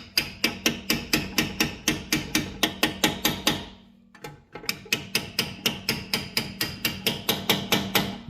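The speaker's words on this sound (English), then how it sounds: "Let's grab an extension to drive this pin in with a hammer." A hammer strikes an extension to drive a brake pad pin on a 2020-or-later Toyota Supra, giving a fast, steady series of sharp metallic taps close up, pausing briefly midway before the rhythmic hammering resumes.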